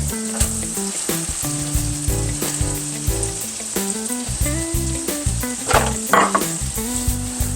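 Seasoned keto chicken thighs sizzle steadily in a hot pan, a loud continuous fry with scraping and stirring clatter breaking through, with no talking.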